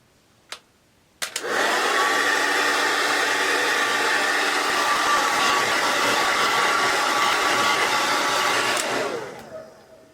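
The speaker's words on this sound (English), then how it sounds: "That is what you do with the hair dryer." After a couple of clicks, a hair dryer roars on, blowing steadily and loudly for about eight seconds before switching off and winding down.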